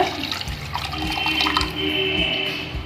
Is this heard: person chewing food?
no